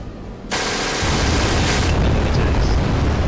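Abrams tanks firing in a video game: a sudden heavy cannon blast at half a second gives way to a sustained explosive roar and rumble that lasts to the end, loud and close.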